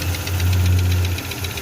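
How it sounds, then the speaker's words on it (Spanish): A car engine idles with a steady low drone and a rhythmic ticking, knocking noise coming from the gas injector, close up and continuous, no talking. "Ese sonido ahorita es de acá del inyector de gas."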